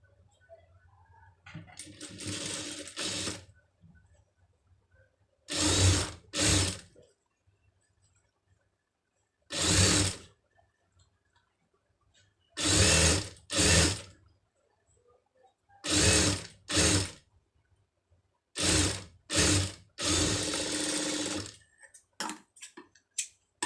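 Sewing machine stitching a sleeve with a pom pom design, running in about eight short separate bursts of rapid mechanical whirring with quiet pauses between them, close and clear.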